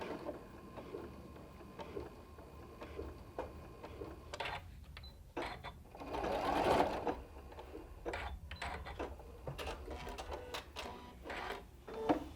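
Sewing machine stitching a LeMoyne Star quilt seam, a quiet mechanical whirring with clicking bursts and short pauses, faint and close, no talking.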